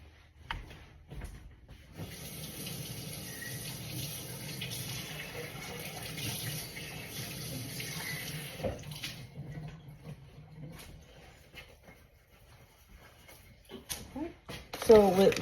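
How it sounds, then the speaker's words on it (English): A measuring cup is rinsed under a running kitchen tap, a steady wash of water flowing for several seconds before it stops, followed by a few clinks and handling sounds. "so I need to rinse this out"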